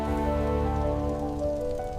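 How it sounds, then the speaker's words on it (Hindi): Rain falls steadily in a continuous soft patter beneath a gentle musical background. "बारिश अभी भी हो रही थी"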